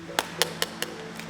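Five crisp metallic taps on a good canned fish tin, evenly spaced about a fifth of a second apart, close and clear over a low steady hum.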